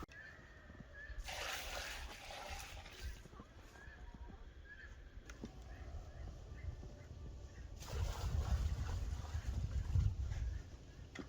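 Water splashes and sloshes into a chicken tractor waterer on a snowy, freezing day, in two louder bursts with quieter handling noises between them, and no one talks.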